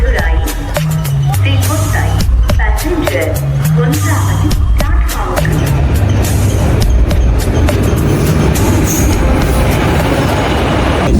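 A train rumbling along the rails with repeated clacking bursts and low engine drone, loud and close, with voices mixed in.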